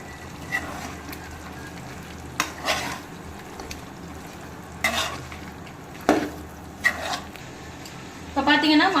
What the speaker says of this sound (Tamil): மசாலா பொருட்களோட பச்சை வாசனை போகிற அளவுக்கு நல்லா கிளறி விட்டாச்சு